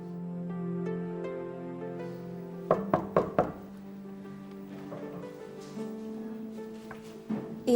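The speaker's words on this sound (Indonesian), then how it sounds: "Saya terbangun karena mendengar Bapak mengetuk pintu kamar saya." Knuckles rap on a bedroom door in a quick burst of four sharp knocks, then a single knock later, over a sustained musical drone in a quiet night scene.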